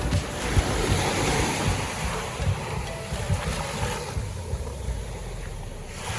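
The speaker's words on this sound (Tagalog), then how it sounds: "The waves here are great." Ocean surf rolls and washes continuously onto Puka Beach, Boracay, with steady wind buffeting the microphone throughout.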